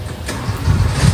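A 1975 Toyota Corona RT114 engine runs steadily at idle, a low rumbling drone that holds throughout with slight swells, close by and alone with no voices.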